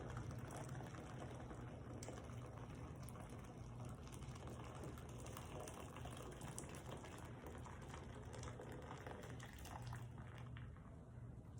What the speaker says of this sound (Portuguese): Agora vamos colocar mais 2 litros de água fervendo